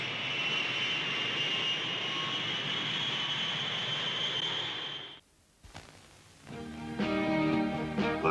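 Jet aircraft roaring as it takes off, a loud sustained whoosh with a high whine that cuts off abruptly, followed by a brief quiet and then the opening of a 1970 Ford car commercial's music.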